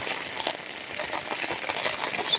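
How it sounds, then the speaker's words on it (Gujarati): Steady, dense patter of heavy rain falling outdoors on a farm field, a continuous hiss with small droplet ticks throughout, moderately loud and with no voices. "મસ્ત મજાનો આજે વરસાદ એવો આવી ગયો છે મિત્રો"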